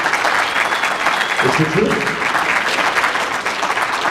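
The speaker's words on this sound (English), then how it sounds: "Can we get a round of applause for that?" An audience applauds at a university jazz concert, a broad, steady wash of clapping from a crowd, with a brief spoken remark audible over it.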